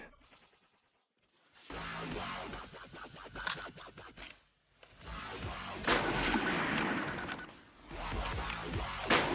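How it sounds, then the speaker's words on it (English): A Gewehr 98 bolt-action rifle fires a few rounds outdoors, each shot a loud sharp crack with a rolling echo, spaced a few seconds apart. "we'll try and fire a few rounds off on the famous Gewehr 98"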